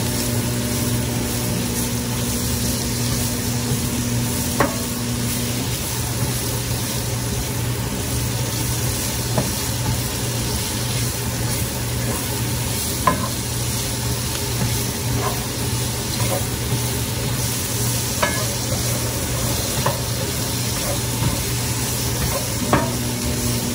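Minced garlic and onions sizzle steadily in a pan for spiced samosa filling, a constant frying hiss with a low background hum and occasional sharp clicks of stirring.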